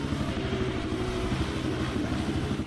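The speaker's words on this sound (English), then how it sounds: "the roar of engines grew louder, vibrating through the ground and shaking the leaves" Several quad bike engines roar as they zoom around dirt tracks in a jungle, making a dense, steady, throbbing low drone that stays loud and unbroken throughout.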